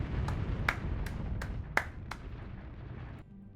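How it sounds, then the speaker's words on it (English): About half a dozen sharp claps spaced out over a steady low background hum, fairly close and moderately loud. "Round of applause for Ziggy."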